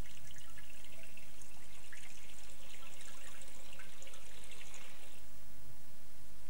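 Cold water runs steadily from a tap onto burned or scalded skin, a continuous close hiss and trickle at moderate level with no other sounds.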